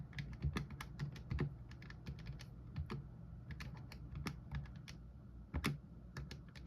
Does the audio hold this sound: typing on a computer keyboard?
yes